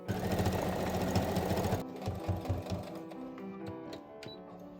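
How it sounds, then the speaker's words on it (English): A sewing machine stitches down the drawstring channel of a baby pixie hood, a dense rapid mechanical whir for nearly two seconds, then it stops and a few soft handling clicks follow. "I'm gonna sew this down, taper it back here, but still leave room for a drawstring to go through"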